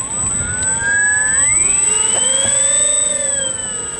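A Grumman Tigercat aircraft engine winds down after landing, a steady loud drone with rising and falling tonal whine and a faint high constant tone, continuous throughout.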